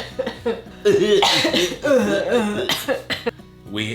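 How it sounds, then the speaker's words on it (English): Several harsh, raspy coughs in quick bursts, close to the microphone, with a short pause before a final cough. "That cough."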